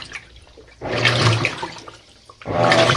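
A loaner washing machine filling with water for its main wash cycle, bursts of rushing, splashing water that start and stop, with a quiet gap between two fills.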